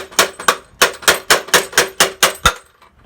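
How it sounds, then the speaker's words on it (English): Hammer tapping on a VR200 flywheel to free a part, about ten sharp metallic clanks in a quick steady rhythm, close and loud, no talking. "just tap it with the hammer"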